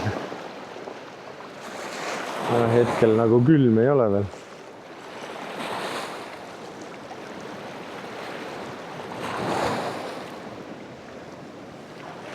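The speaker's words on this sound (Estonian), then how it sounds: "vesi lööb vastu jalgpõlvi ja siis lööb kohe käte peale ka" Sea waves wash and splash steadily around a wading angler's legs on a windy shore, with gusts of wind noise on the microphone and someone talking briefly.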